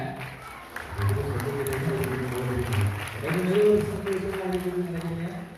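An auditorium audience at a college award ceremony claps in a steady round of applause, while a voice talks over it with low tonal hum underneath.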